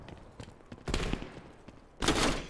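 Bursts of gunfire in a multiplayer shooter video game, two loud dense volleys of rapid shots with quieter scattered pops between them, close and punchy.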